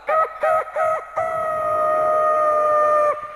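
A rooster crows loudly and close by: three short clucking calls come first, then one long drawn-out cock-a-doodle-doo that rings steadily before cutting off.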